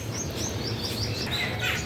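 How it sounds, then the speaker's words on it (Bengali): Birds calling at a morning feeding spot where pigeons gather for food, with bright chirps repeating over a steady low background, close and alone without talk. "দেখো মা, আজকে কতগুলো পায়রা এসছে"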